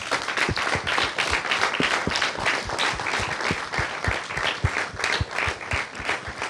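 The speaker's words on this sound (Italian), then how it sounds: "fatevi un bel applauso" Applause from children at an Italian amusement park event for young football talents, lively and steady with distinct individual claps throughout, moderately loud and without talk.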